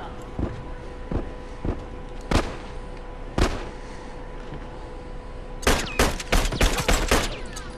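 Gunfire in The Last of Us multiplayer: scattered single shots early on, then a rapid cluster of sharp reports near the end, set against a steady game background hum and with no speech.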